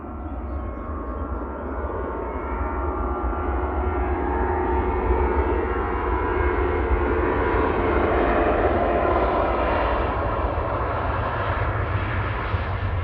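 An Airbus A380 departs Manchester Airport at full power in the evening, a loud, sustained, deep engine roar that swells gradually and holds steady across the clip.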